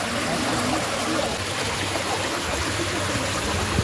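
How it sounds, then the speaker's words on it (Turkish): A small artificial waterfall in a park gives a steady, close rushing splash of falling water, continuous and unbroken. "Şelale, küçük şelale yapmışlar."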